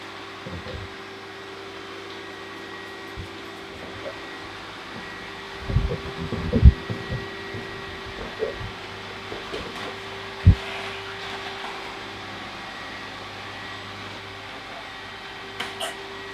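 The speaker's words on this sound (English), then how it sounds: "the vacuum has gone around the perimeter of the room" Eufy E20 robot vacuum running steadily across a room floor, a low constant motor hum with a few brief bumps and knocks as it travels, fairly quiet and without talk.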